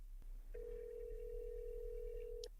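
A telephone line rings steadily for about two seconds while a call is being transferred, a single sustained electronic tone heard faintly through the line with no talking.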